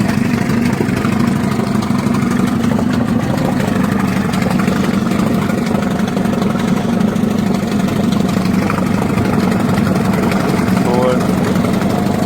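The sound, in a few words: Crescent/Volvo Penta 25HP two-stroke outboard engine idling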